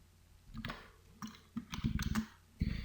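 Quick bursts of keystrokes on a computer keyboard, clustered clicks in short irregular runs with brief pauses between, close and clear with no voices.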